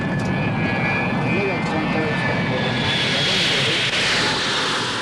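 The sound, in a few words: jet airliner flying toward Manhattan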